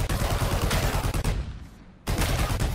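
Gunfire in the video game Shattered Skies: dense, loud rapid bursts of shots fill most of the stretch, breaking off for a moment before another heavy burst resumes, with no talk.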